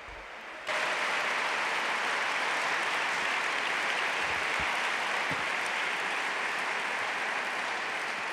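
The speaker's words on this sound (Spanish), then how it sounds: "podéis aplaudir, eh" A church or hall audience applauds after a speaker's talk, a broad, steady wash of clapping that starts abruptly and carries on evenly for several seconds with no voices over it.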